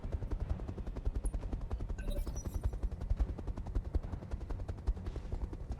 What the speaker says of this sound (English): some more Inferno missiles coming in